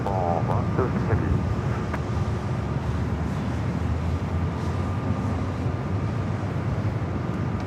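At Los Angeles airport, an arriving airplane makes a loud, steady low roar that carries throughout, with a voice talking over it.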